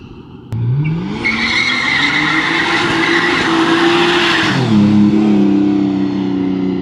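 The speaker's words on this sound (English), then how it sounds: "the brake is dragging now" Nissan Skyline R34 with a dragging brake, a loud engine that revs up sharply, holds a high strained drone with tire or brake squeal, then drops and settles, no voices.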